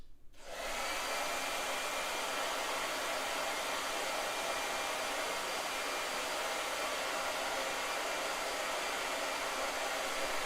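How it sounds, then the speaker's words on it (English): A hair dryer switches on and blows continuously, a steady broadband whoosh held at constant level for about ten seconds, close by. "Blow dryer."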